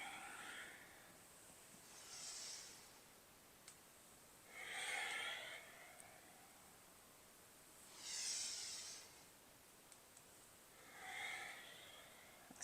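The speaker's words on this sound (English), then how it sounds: "Breathing in and out through the nose." Slow yoga breathing in and out through the nose during a cat-cow sequence in a trauma-focused class: four soft, hissing breaths rise and fall at an even pace, close and alone with no talk.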